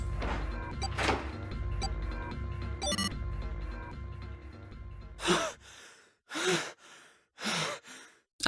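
Characters in the video game Nine Hours, Nine Persons, Nine Doors pant and gasp in a string of separate, breathy bursts that follow a stretch of tonal game music and a few sharp hits.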